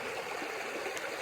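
A river stream flowing through New Zealand back country, a steady close rushing and trickling of water throughout the short moment.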